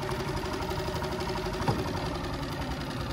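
A Yamaha 2.5 HP four-stroke outboard engine runs steadily in gear, a close, even mechanical drone with a faint knocking pulse and one brief click partway through.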